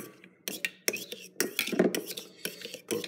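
Utensil stirring sriracha into food in a pan, heard as close, irregular scraping and clinking strokes in short bursts, fairly quiet, with soft breathy sounds between.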